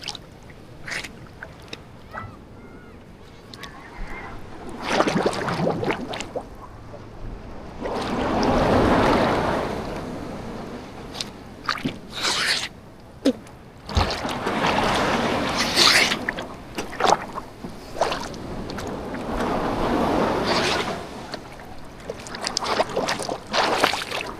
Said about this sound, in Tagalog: Parang baliktad tong alon na to eh